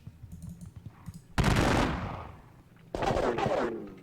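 Volley gunfire in a Seven Years' War strategy video game: two loud bursts of massed musket fire, each ringing out and fading, with quiet clicking beforehand.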